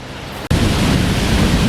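Strong wind roars steadily into the microphone, loud and broadband, with a brief dropout near the start before the gusting resumes unbroken.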